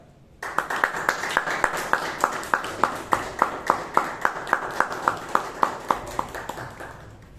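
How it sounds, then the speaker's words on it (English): Toastmasters club members greeting a speaker break into sudden applause that settles into a steady, evenly paced round of unison clapping, near and fairly loud, lasting several seconds before it fades. "let us give a big round of applause welcoming Toastmaster Shetty on his speech titled Born to Fly"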